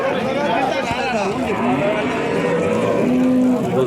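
Jersey cow at a cattle market, lowing loudly in a few drawn-out moos amid steady crowd chatter and people talking nearby.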